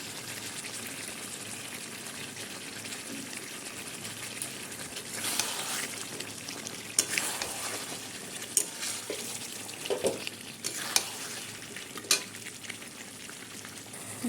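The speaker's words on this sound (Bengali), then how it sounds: "এইভাবে এবার আমি 2-3 মিনিট কষিয়ে নেব দইটা দিয়ে" Meat sautéing with yogurt in a pan for a curry: a soft, steady frying sizzle with scattered stirring scrapes and wet clicks that grow busier partway through, all close and fairly quiet.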